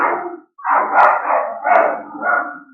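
Three dogs bark in several loud, close bursts, the barks coming in quick irregular clusters separated by short pauses, with some howl-like drawn-out notes mixed in.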